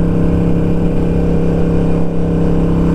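A Harley-Davidson Sportster Roadster XL1200CX motorcycle engine drones steadily and loudly up close, a continuous low mechanical hum with no talk.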